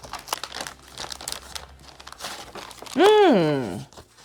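A thick, embossed paper certificate from a Mattel Barbie Basics 2025 doll is handled up close, giving a run of dry crinkling rustles, then a short rising-and-falling vocal exclamation.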